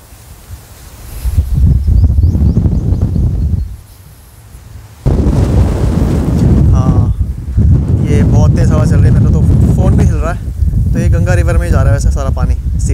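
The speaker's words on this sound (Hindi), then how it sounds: "वो देखो सामने कितनी तेज हवा चल रही है" Strong gusts buffet the microphone in loud roaring waves at a riverside beach near Swarg Ashram, dropping off briefly before surging again, while someone talks over the wind.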